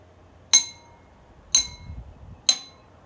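A metal spoon taps three glasses filled with different levels of water, one bright ringing clink roughly each second, each decaying quickly into quiet.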